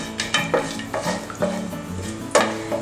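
Bay leaf, cinnamon, star anise, cloves and cardamom temper in hot ghee, heard as a soft sizzle beneath repeated clinks and scrapes of a utensil stirring in the pan.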